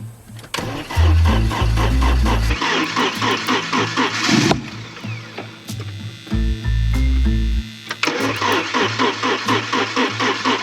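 A 1982 Porsche 924 Turbo's starter cranks the engine slowly in long, loud bursts of rhythmic chugging with short pauses between attempts, and the engine never catches.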